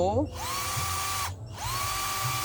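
Battery-powered cordless electric drill from a Nagawa, Black & Decker or Hujia lineup, set to its low first speed: two close, fairly loud whirring runs, each spinning up to a steady motor whine, separated by a brief stop.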